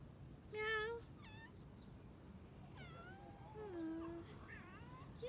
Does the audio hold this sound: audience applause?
no